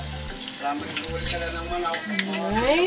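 Lumpia spring rolls frying in oil, a steady crackling sizzle running throughout with a brief spoken word over it and some tonal background sound.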